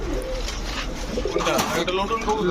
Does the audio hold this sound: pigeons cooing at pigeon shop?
yes